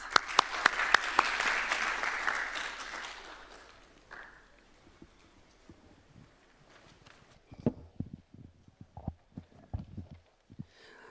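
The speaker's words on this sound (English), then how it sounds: "Let's give applause to our panelists." Audience applause for panelists at an infrastructure decarbonization conference: a few sharp claps lead into a swelling burst that fades by about four seconds, followed by scattered quiet knocks and shuffles.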